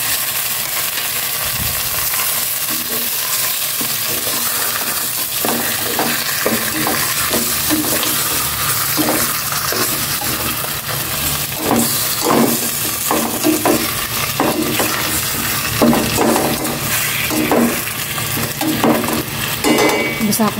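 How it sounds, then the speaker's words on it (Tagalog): Pork sizzles steadily in a hot pan for adobo while a utensil stirs and scrapes through it in repeated strokes, the frying hiss loud and continuous throughout. "Lagay ko na itong pork ng magisa na rin."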